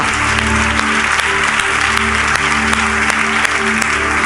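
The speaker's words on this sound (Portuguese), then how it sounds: "aplauda ao Senhor nessa noite" A church congregation at a Sunday evening service claps steadily, a dense and loud burst of applause that fills the room, with faint voices mixed in.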